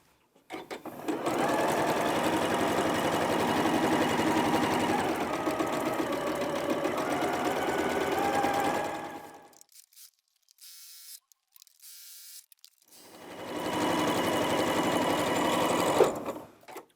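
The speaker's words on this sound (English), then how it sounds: "now we're going to repeat the process of doing our scant 1/4 of an inch seams either side of the line again." Sewing machine stitching scant quarter-inch quilt seams for an Ohio Star block, a steady fast mechanical whir for about eight seconds, a pause with faint handling sounds, then another run of stitching, close and alone.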